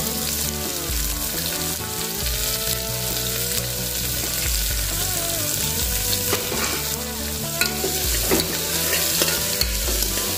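Onion, green chilli and garlic sauté in a hot oiled pan with mustard and cumin seeds, a loud continuous sizzle broken by scraping stirs, with no talk over it.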